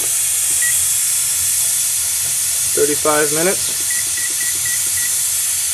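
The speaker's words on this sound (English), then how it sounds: "keep that constant hiss going, a little bit less heat" A pressure cooker cooking chicken noodle soup gives off a constant steady steam hiss, loud and continuous, while a person briefly speaks over it.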